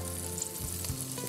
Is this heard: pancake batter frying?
yes